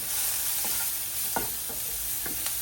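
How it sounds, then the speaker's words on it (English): Spices sauté in hot oil in a pan, a close, steady sizzle broken by a few quick stirring scrapes, with no talk. "The spices is good for you to saute the spices because they release all the oil"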